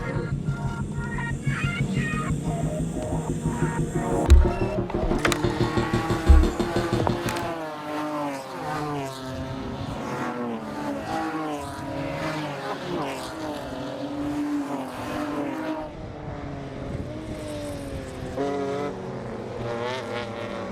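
BMW race cars roar through a 4-lap sprint race, engines revving and shifting gears loudly with rising and falling pitch as cars pass close by, a short thump early on.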